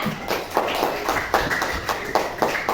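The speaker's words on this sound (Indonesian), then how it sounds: "Tepuk tangan untuk kami dan kita." A class of students claps together in a steady rhythmic pattern, a patterned group cheer with evenly spaced sharp claps repeating close by throughout.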